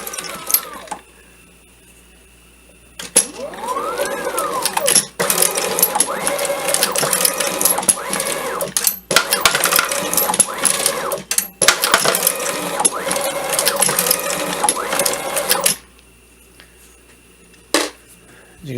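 An AmmoBot case extractor machine runs steadily with a busy mechanical clatter and repeated metallic clinks of cases dropping, continuing for about twelve seconds before stopping, then one brief clink afterward.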